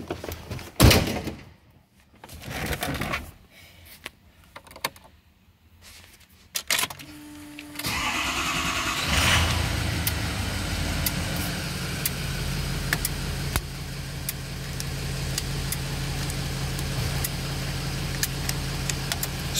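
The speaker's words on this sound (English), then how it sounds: "Now it's time for the red truck to get pulled out." A red truck's engine starts up after door thunks and clatter, then settles into a steady, fairly loud idle that runs alone while the truck is readied to be pulled out.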